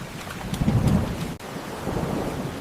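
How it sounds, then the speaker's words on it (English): Heavy rain falls steadily as a broad, close wash, with a low rumble of thunder swelling early and then easing back into the downpour. "It was raining heavily that night"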